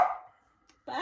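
A dog gives two short barks, one at the start and one at the end of a brief moment indoors, near and fairly loud.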